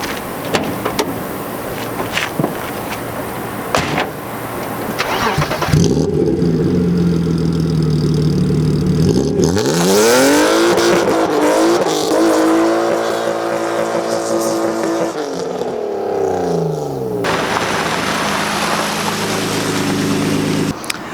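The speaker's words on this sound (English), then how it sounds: "now I'll just rip a quick little burnout, first, second gear" A BMW E36 325i drift car revs hard through a burnout in first and second gear, engine roaring and climbing in pitch over a continuous rush of tire and exhaust noise, loud and close throughout.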